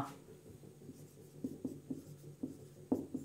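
Chalk or marker scratches across a board in a physics lesson on magnetism, quiet close strokes with several sharper taps and squeaks coming in short irregular bursts against a faint room hush.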